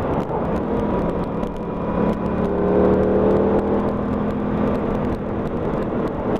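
An Aprilia RS 660 motorcycle engine hums from the rider's position under steady wind rush, its tone climbing and easing slightly as the bike is ridden, moderately loud and continuous.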